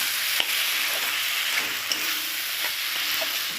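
Prawns fry in a pan with a cashew-poppy seed paste, a steady close sizzle running throughout, broken by a few light taps and scrapes of stirring.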